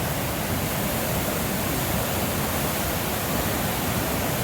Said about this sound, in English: Got a lot of water flowing through here right now. This is the Stilaguamish River.